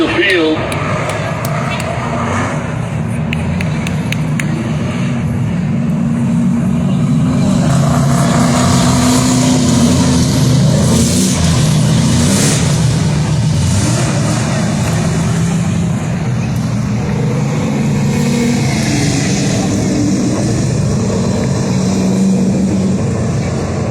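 Race cars idle and rumble on practice laps behind a 1970 Dodge Dart Swinger pace car at Agassiz Raceway, a dense, steady engine drone that holds loud throughout with crowd and announcer noise underneath.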